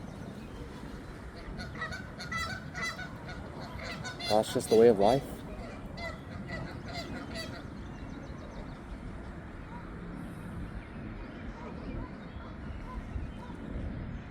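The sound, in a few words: geese honking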